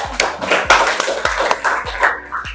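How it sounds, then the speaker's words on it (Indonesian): A handful of classmates clap for a student group in a classroom, a few scattered, uneven claps and thumps at close range, loose and irregular rather than a full ovation. "Kasih tepuk tangan lagi untuk kelompok 4."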